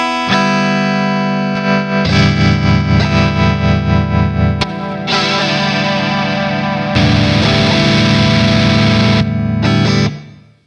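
Distorted electric guitar chords played through an Enya INSPIRE amp's amp-simulator effects ring out, loud and sustained, changing tone between sections before cutting off.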